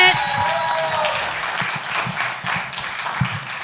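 Public works employees cheer and clap at a city council meeting, a steady wash of applause with scattered claps throughout, while a voice talks over it.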